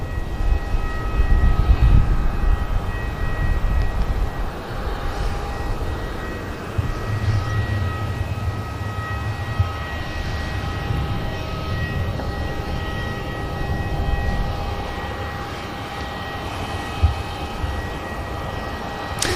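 A TAP Air Portugal airliner takes off at Manchester Airport, its engines a steady, broad roar held at a fairly even level throughout, with a low rumble underneath and no voices.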